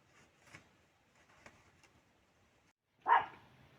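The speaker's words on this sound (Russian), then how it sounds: "Где-то там собака лает." A dog barks somewhere across a Novgorod countryside village in summer, one faint distant bark after a stretch of quiet rustling outdoor ambience.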